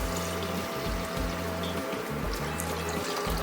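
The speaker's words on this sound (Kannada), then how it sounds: "ಇವಾಗ ನಾನು ನೀರು ಹಾಕೋತಾ ಇದ್ದೀನಿ" Water pours steadily into fried rice in a pan while cooking tomato bath, a continuous close splashing gush with no talk over it.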